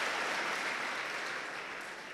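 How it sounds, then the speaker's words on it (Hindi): School students at Vande Mataram Academy applaud themselves, a steady wash of clapping that fades slightly toward the end. "एक बार अपने लिए तो ताली बजा दो।"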